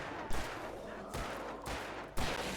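Gunfire in a video game during a first blind playthrough: heavy bursts at steady intervals, several loud shots with a continuous rumble between them.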